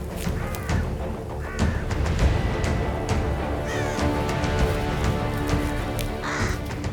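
Ravens on a wild British island calling with harsh croaking caws amid a crowd of squabbling birds, a dense, continuous chorus of overlapping calls near and far with no talk.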